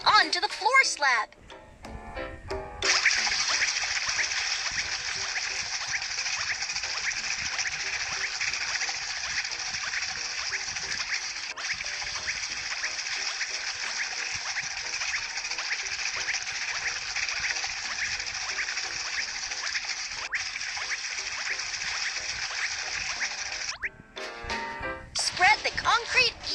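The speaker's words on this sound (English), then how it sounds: "Pour the concrete onto the floor slab." Concrete pouring onto a floor slab in a Baby Bus earthquake-resistant building game, a long steady splashing, gurgling stream of cartoon sound effects, with short bursts of game music or voice at the start and end.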